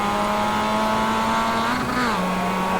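Race cars hold a steady high engine whine as they run a lap of the course, pitch shifting slightly through a turn, continuous and fairly close.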